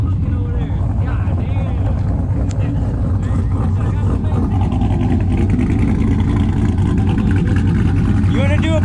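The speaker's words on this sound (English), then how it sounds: "You wanna do a better burnout?" A truck doing a burnout on a street race strip, engine droning loud and steady near the microphone with tyre noise and wind buffeting, while people shout and talk over it.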